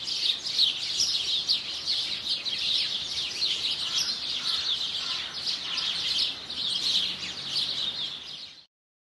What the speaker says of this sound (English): But you'll see a lot of beautiful cardinals, and cardinals are so much fun